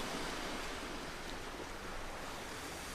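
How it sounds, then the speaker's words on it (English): Ocean surf breaking against the rocky shore at Pigeon Rocks in Lebanon, heard as a steady, loud wash of water with no distinct single crash standing out over three seconds. "Come on, give me a nice big wave."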